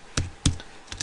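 A few sharp keystrokes on a computer keyboard while entering a PowerShell command, three distinct close clicks spread over about a second with a quiet room behind them.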